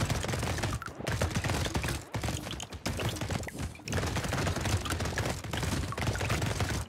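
A red minigun fires in the video game Brotato, producing dense, rapid bursts of gunfire that pour out almost continuously, with only a few brief gaps between volleys.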